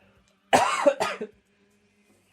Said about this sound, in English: I have to cough because of me tearing through my vocal cords.